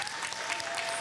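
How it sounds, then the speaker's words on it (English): Brief burst of audience clapping at a breast cancer awareness summit panel, a dense, fairly close round of applause lasting about a second. "let me hear your applause for the day"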